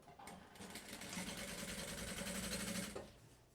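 Sewing machine stitching the bottom seam of a party trunk-style handbag with a half-centimetre presser-foot margin, a fast steady mechanical whirring run of about two and a half seconds that starts and stops abruptly, close and alone.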